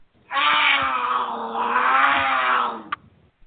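A cougar growls once in a long, loud, rough roar of about two and a half seconds, heard alone with no talk, and a short click follows at the end.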